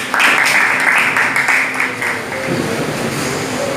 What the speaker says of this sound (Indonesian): tepuk tangan buat kelompok terakhir